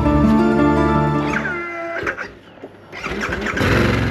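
A Harley-Davidson Pan America motorcycle's starter cranks the cylinders, then the engine catches, stumbles briefly and settles into a loud, close idle.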